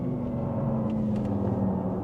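A Porsche Taycan Turbo GT electric car weaves through a slalom, giving a steady close road rumble with a faint whirring hum and tyre noise throughout.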